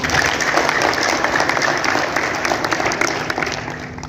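Sustained applause from a large crowd at a Partai Solidaritas Indonesia (PSI) meeting in Kupang, steady and dense throughout, tapering slightly toward the end.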